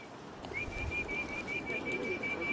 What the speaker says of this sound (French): Aujourd'hui, mes pigeons sont de vrais pigeons de compétition.